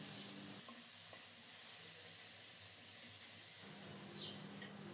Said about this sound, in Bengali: মাছ ভাজার এই তেলেই প্রথমে আলুগুলো দিয়ে দিলাম